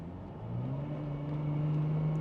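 A 30-year-old Aston Martin DB7 accelerating on open road, its engine note rising smoothly in pitch as the revs climb, heard from inside the cabin, steady and fairly loud.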